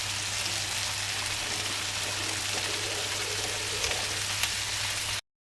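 Butter chicken gravy bubbles and sizzles in a pan while being stirred, a steady moderate hiss with a low hum beneath, cutting out abruptly near the end.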